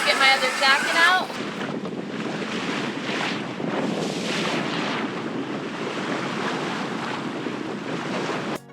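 Wind buffets the microphone as waves wash past a 30 ft sailboat leaving harbor to beat upwind, a steady loud roar and hiss of air and water after a brief opening sound.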